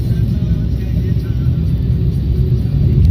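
A Tata Nano small car driving along: a steady low engine and road rumble heard from inside the cabin, constant and fairly loud with a slight rise in intensity near the end.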